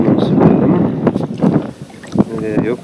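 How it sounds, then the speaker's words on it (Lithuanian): Gusty wind rushes across a lake while someone rows a boat, buffeting the microphone in loud, uneven bursts with faint water and paddle noises beneath. "Vėjukas toks."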